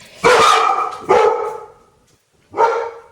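Three loud, close dog barks, two in quick succession and a third after a short pause, with no other sound around them.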